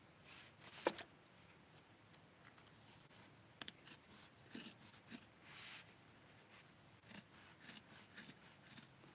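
Scissors snip through fabric while making sewing for an 8-inch doll, a series of quiet, close crisp cuts coming in short bursts with pauses in between.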